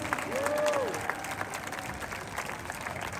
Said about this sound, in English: Let's give Andres and Dylan a big round of applause.